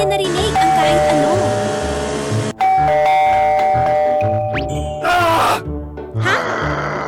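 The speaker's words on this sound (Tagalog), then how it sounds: "Malakas na tumunog ang doorbell sa harap ng bahay." A ringing doorbell chime sounds amid busy, loud background sound and voice-like groans, the tones recurring over several seconds.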